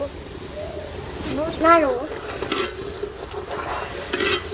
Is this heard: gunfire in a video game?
no